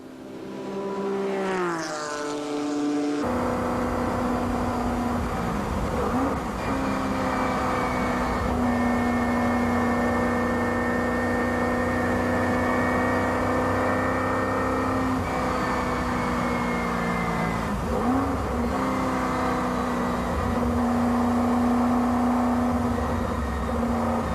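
Onboard a Lola race car, number 15, driven by Alain Cudini at the 1995 Deux Tours d'Horloge: a loud, steady engine drone with sustained high revs and a few brief dips at gear changes, continuous throughout with no talk.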